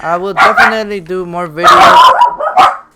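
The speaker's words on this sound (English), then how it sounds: "I'm sorry about my dogs." Dogs barking and yipping near the microphone, short sharp barks in quick bursts mixed with someone speaking over them.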